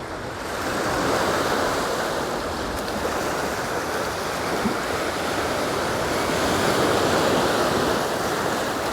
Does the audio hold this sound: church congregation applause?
no